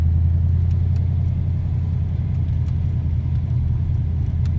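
A Fox body Ford Mustang with a 5.0 V8 runs steadily at close range, its low, even engine rumble continuing without a break and no voices over it.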